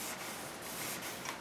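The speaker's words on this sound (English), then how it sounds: "still sanding with my little block" Hand sanding of two-part polyester glazing putty over paint runs with 400 grit paper wrapped on a small block of paint stick: a continuous close, raspy rubbing with faint back-and-forth strokes, no talk.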